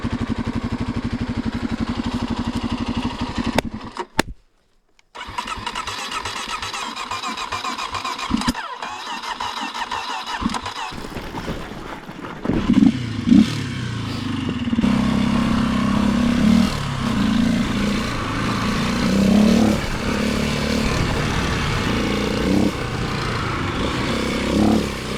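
A dirt bike engine that struggles to hold idle fires up, stalls briefly, then restarts and runs with a close, loud uneven idle broken by blips of revving, and no talking.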